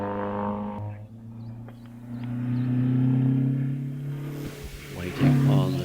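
1800cc Mazda MX-5 launching at a hillclimb, its engine rising into a loud, sustained rev and rumble that swells midway and then fades as the car pulls away, with a commentator talking over it.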